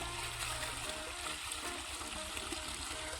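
Water from a solar-powered pump runs in a field with a steady, faint trickling and splashing flow, quiet and continuous.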